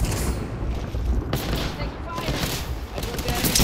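Gunfire in Apex Legends during a seasonal event fight, with dense overlapping shots and booms rolling continuously under voices that talk over the combat.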